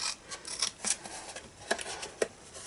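Scissors cutting card up to a score line for a tucked-lid gift box, a few quiet, close snips spaced irregularly over a soft background, no talking.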